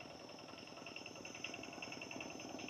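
A faint, steady engine putters at a distance with a regular chugging rhythm and a thin high whine over it.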